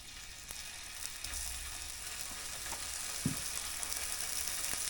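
Pork chops frying in oil on a hot flat rock give a steady, fairly quiet sizzle that runs the whole time, with a few small pops and a brief louder crackle partway through, and no talking.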